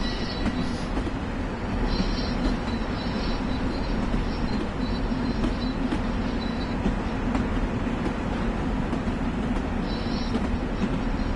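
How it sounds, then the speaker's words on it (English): A Long Island Rail Road train departing in the Train Sim World game at a yard, a continuous low rumble of rolling railcars with faint intermittent wheel squeals, steady throughout. "There's another train departing. I can hear it."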